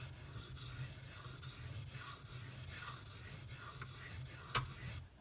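A knife blade, a Kershaw Launch 11 with an off-center factory grind, rubs steadily over fast-cutting Sigma whetstones in a close, dry rasping rhythm of repeated strokes, with no talking.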